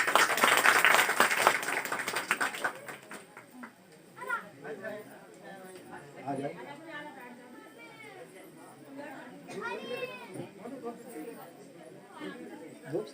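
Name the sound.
loud applause from the audience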